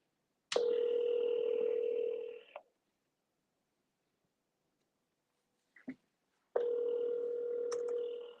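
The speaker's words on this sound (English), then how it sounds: "this whole time this has been dialing through my computer" A phone call placed through a computer dialer produces two long ringback tones separated by a few seconds of silence, clear and electronic, with a faint click between them.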